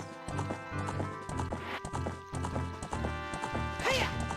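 A horse's hooves clip-clop steadily in the Zelda: Ocarina of Time video game, a quick even rhythm that continues throughout, loud and close, with game music running underneath.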